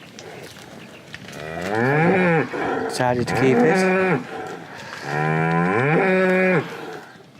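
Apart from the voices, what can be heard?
shorthorn cattle mooing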